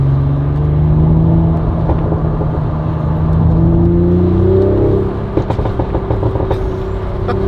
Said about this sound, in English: I just can't wait to see what she sounds like with the catless downpipe.